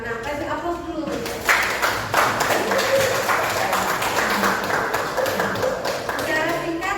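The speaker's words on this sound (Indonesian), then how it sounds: "Kasih aplaus dulu" A class of students applauds in a classroom, a burst of clapping that starts after a brief voice and carries on steadily for several seconds before fading as talking resumes.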